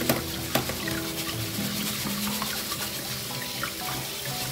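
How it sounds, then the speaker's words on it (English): Millet grain being washed by hand in water in a bowl to make hausa koko, giving a steady close wet swishing and sloshing with small splashes and no talk. "I'm washing it. You need to wash it very well because it comes with sand and a lot of dirt."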